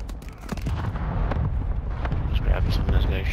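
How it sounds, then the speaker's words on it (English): Gunfire from a video game firefight, dense rumbling shots and booms rolling continuously under a player's talk, loud and close throughout. "I got gunfire to my right"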